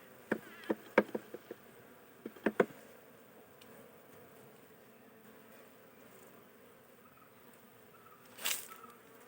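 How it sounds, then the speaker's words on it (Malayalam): Honey bees buzz faintly around an open wooden hive, a low steady drone with a few sharp taps and knocks near the start and a brief louder buzz toward the end. "ഈച്ച കുത്തുന്നുണ്ട്"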